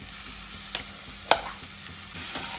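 Potato is stirred into a frying green chilli mixture for jackfruit chops, with a steady, moderate sizzle of oil underneath and a couple of brief spoon scrapes and taps against the pan.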